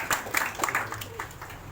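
Audience applause at a school maths quiz prize distribution ceremony, a short burst of scattered hand claps, fairly close and moderate, fading out over under two seconds with some voices mixed in.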